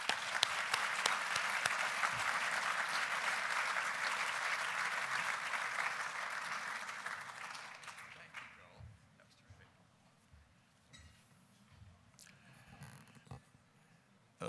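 An audience gives sustained applause to welcome a speaker at a lecture on American politics, a dense clapping that fades out after several seconds into a quiet room with small rustles.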